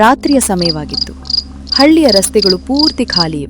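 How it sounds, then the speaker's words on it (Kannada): Night insects chirp in a pulsing, high rhythm along empty village roads, a steady background beneath a loud, close voice narrating in Kannada. "ಕಪ್ಪೆ ಮತ್ತು ಕೀಟಗಳ ಶಬ್ದ ಮಾತ್ರ ಕೇಳಿಸುತ್ತಿದೆ."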